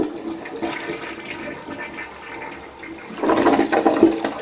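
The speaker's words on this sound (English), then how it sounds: "Let's flush the toilet now" A toilet flushes close by, a low steady water rush that swells into a loud, turbulent gush of draining water toward the end.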